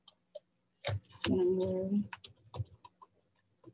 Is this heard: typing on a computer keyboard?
yes